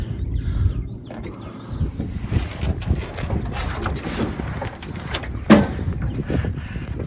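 A 1957 Johnson Sea Horse outboard motor starts up and runs outdoors with a rough, steady engine drone, mixed with heavy wind buffeting on the microphone and one sharp knock near the end.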